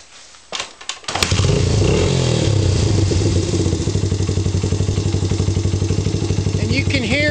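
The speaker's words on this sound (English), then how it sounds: "So what I'm going to do is start my engine and warm it up a minute." A Honda CRF/XR 80 or 100 small motorcycle engine clicks, cranks and starts, then idles loudly and steadily with a rapid, even putter close by, with slight timing chain slap.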